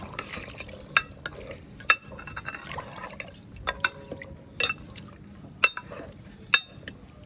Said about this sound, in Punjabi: ਪਾਣੀ ਪਾ ਕੇ ਆਪਾਂ ਚੰਗੀ ਤਰ੍ਹਾਂ ਨੂੰ ਹਿਲਾ ਦਾਂਗੇ